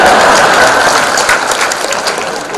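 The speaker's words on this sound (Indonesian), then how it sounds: "Tepuk tangan buat ikan." A crowd at a halal bihalal gathering claps loudly, a dense, close burst of applause that stays strong and even before easing off slightly.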